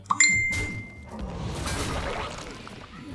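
A short phone notification chime rings out at the start, a bright tone with a brief ringing tail, followed by soft clattering and room noise with no talk.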